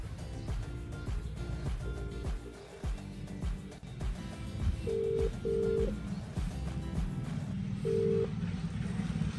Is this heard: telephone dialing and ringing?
yes